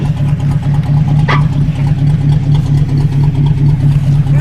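A 1941 Buick engine runs at a steady, loud idle with a strong low throb, while a brief clunk near the middle suggests the gearbox being worked to find first gear.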